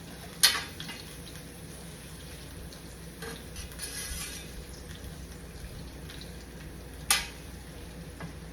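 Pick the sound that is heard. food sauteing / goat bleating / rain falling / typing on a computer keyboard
food sauteing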